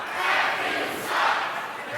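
A wrestling arena crowd jeers and boos a wrestler in two swelling waves of loud, rough shouting, with voices mixed in.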